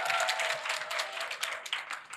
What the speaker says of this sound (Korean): 좀 먼저 좀 박수 한 번만 좀 쳐주시면